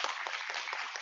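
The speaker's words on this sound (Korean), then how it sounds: "선배님들, 교수님들께 박수 한번 다시 부탁드리겠습니다" An audience at a student academic festival of Dongwon University's health administration department briefly applauds senior students and professors with a short burst of many hands clapping, slightly distant.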